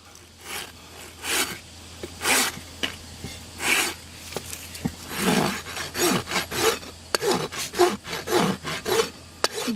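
A rasp files a horse's hoof during a basic trim with repeated rough strokes in an uneven rhythm, close and fairly loud, and there is no talking.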